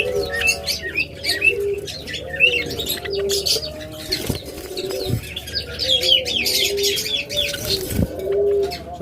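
Budgerigars and lovebirds kept in cages chirp and twitter in a steady, overlapping chorus, with pigeon-like coos and a couple of sharp clicks or wing flutters, fairly close and continuous throughout.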